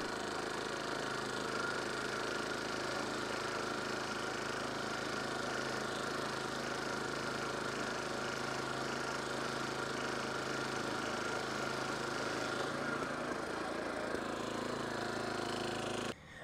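Steady engine drone of a lawn mower cutting stripes across a Bermudagrass lawn, running continuously near and loud with no talk, then easing slightly toward the end.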